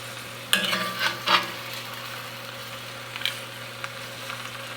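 Roast chicken pieces with split onion in a hot pan sizzle steadily, and a few scraping clatters come as the pieces are turned over, close and moderately quiet.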